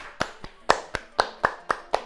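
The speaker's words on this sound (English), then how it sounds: "You have to clap. The cue is to clap." Hands clap about eight times in a steady, slightly uneven rhythm, each clap crisp and close, with quiet room tone between them.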